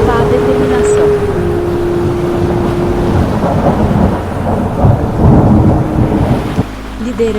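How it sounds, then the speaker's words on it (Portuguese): Thunder rolls through a stormy sea squall, with wind and rain roaring steadily and a low tonal drone running under it, loud and close throughout. "A tempestade não poupava ninguém"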